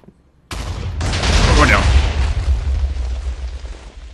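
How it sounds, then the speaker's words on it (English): In Minecraft, a sudden loud TNT blast erupts after a brief quiet, followed by a second burst and a long rumbling, crackling roar that slowly fades. "I wonder if this TNT is primed."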